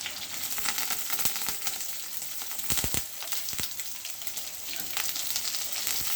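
Dried red chilies drop into hot oil with popped mustard seeds for cabbage poriyal, giving a close, steady sizzle with sharp crackling pops and a few stirring scrapes throughout.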